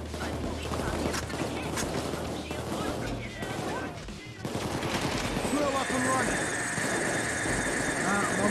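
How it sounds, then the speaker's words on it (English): Sustained automatic gunfire in the heist game Payday 2 crackles steadily and loudly, with engine-like rumble underneath and voices talking over the chaos throughout. "just getting shot at."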